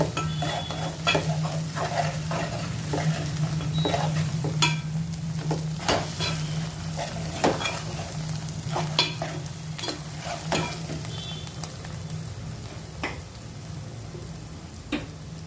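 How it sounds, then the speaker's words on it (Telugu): Gongura leaves being stirred into fried chili powder in a pan, with steady close sizzling and repeated sharp scrapes and taps of a spoon against the pan throughout, for a gongura and raw prawn pickle. "గోంగూర వేసి బాగా అంతా కలిసేటట్టు కలుపుకోవాలి"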